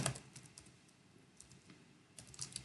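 Quiet, irregular tapping of keys on a computer keyboard, with short bursts of keystrokes separated by pauses.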